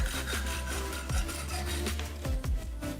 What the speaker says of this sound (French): Maintenant, nous coupons le chapeau du clou.